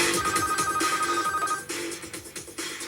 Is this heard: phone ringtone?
yes